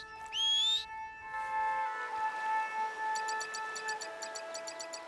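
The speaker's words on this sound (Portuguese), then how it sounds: "eu vou assobiar pro cachorro me ajudar a levar o resto delas pro comprador" In the Red Dead western video game, a player character whistles once for the dog, a short, clear rising whistle, followed by soft sustained music tones and light chirps in the background.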